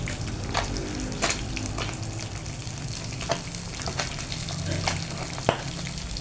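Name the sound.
galunggong fish frying and splattering in hot oil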